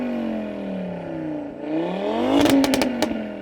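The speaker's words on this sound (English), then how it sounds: "So Audi RS3, can you rev your engine a bit please mate, so we can just enjoy its tone." An Audi RS3 with its 2.5-litre turbocharged five-cylinder and Audi sports exhaust revs up loud and close, the pitch dipping then climbing, with a burst of sharp crackles and pops as the revs peak.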